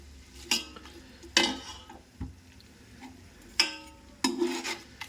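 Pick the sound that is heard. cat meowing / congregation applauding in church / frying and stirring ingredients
frying and stirring ingredients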